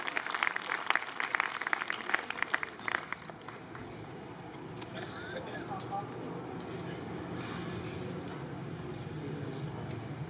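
Audience applause at an educational conference, a few seconds of clapping that quickly dies away into room murmur and faint background noise.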